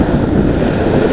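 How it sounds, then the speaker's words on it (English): Loud, continuous wind roar buffeting the microphone on Lake Saguaro, with a low rumbling wash like rough whitecapped water underneath. "It's a windy day out here on Lake Saguaro."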